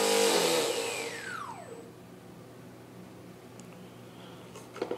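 Turnigy 2730-1500 brushless motor on a thrust test, a loud high whine at half throttle that sweeps downward as it spins down over about two seconds, then fades to quiet background hum.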